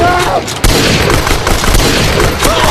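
Gunfire from GTA as people are shot, a dense loud continuous barrage with a sharp blast near the start and steady rattling throughout, with a voice faintly mixed in.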